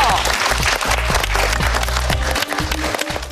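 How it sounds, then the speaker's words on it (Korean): Studio audience applause on a Korean beauty show, a steady wash of clapping over loud background music with strong bass beats throughout. "우선은 박수 부탁드리고요"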